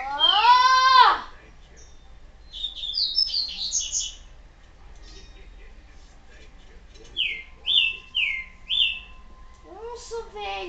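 In Resident Evil 4, a game bird chirps and tweets in several quick bursts of clear high notes, with a voice sounding around them.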